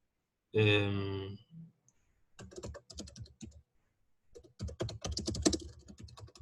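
Typing on a computer keyboard comes through as short bursts of clustered clicks separated by pauses, close and moderately loud, following an opening hum.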